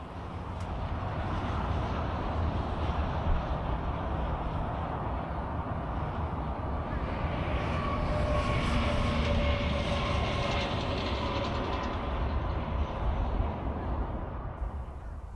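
A ten-coach Brightline passenger train rolls past eastbound on the Interstate 95 bridge, a steady broad rumble with wheel and rail noise that swells mid-pass and holds for the whole stretch, with wind and distant traffic beneath.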